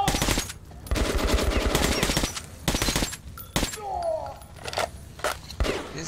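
Automatic gunfire in Metro 2033 Redux, rapid bursts of shots loud and close, broken by short pauses, with faint voices in the background.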